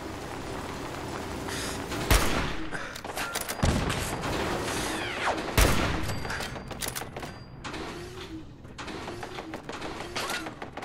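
Automated turret gunfire in Fallout 4's Automatron add-on: sharp bursts of shots with mechanical clanks and ratcheting between them, loud and close, over a steady game background.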